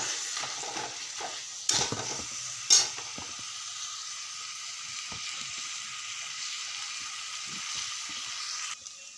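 Potato filling with salt and coriander is stirred in a frying pan for pav vada, giving a soft continuous sizzle with scraping strokes and a couple of louder clanks, close and quiet without talk.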